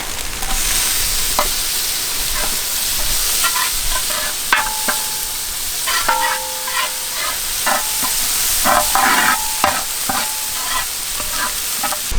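Chopped tomatoes fry with onions and spices in a pan, a constant loud sizzle under repeated metallic scrapes and knocks of a spoon stirring, with brief ringing tones from the pan, close up in a village kitchen.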